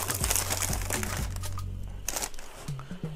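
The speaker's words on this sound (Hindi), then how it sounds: "ये जो पैकेट खोलने का जो सेटिस्फाइंग साउंड आता है काफ़ी ज़्यादा सेटिस्फाइंग है।" Plastic outer wrapper of a 100-rupee Cadbury Celebrations pack being pulled open, giving a run of close, crinkly rustles and tearing crackles over low background hum, with brief snatches of voice in between.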